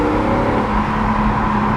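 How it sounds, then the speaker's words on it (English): 2007 BMW Z4 M Roadster engine running steadily from inside the car, with faint valve clatter under a loud, constant engine drone that holds through the short stretch. "you hear a little bit of like some valves shutting back there"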